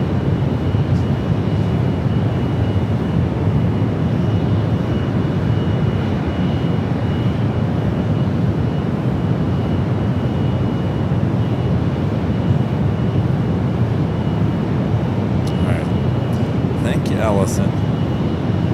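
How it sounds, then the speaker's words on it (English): A Boeing 787 Dreamliner heads out for takeoff on runway 28 at San Francisco airport, giving a steady broadband jet roar that holds at the same level throughout, with faint chirps near the end. "Another Dreamliner heading out to the 28s."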